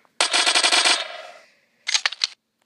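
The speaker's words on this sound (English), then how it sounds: "It's just 50 rounds on a submachine gun, and with almost rifle power because it's bullpup." A bullpup submachine gun in a video game fires a fast, loud, close burst that fades out, followed after a short pause by a brief clatter of mechanical clicks, with no voices.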